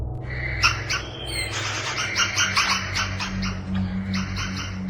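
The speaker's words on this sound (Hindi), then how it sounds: "पक्षियों का अजीब सा कोलाहल उसे और भी डरा देता है।" A strange, eerie clamour of many birds calling and chirping at once, used as a sound effect in a horror story set around a deserted ruin surrounded by big trees, with dense overlapping calls over a low background rumble.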